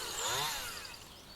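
Chainsaw running steadily in the distance on a farm hedge bank, cutting hazel hedge for hedge laying, a continuous buzzing whine that holds for the whole moment with no voices.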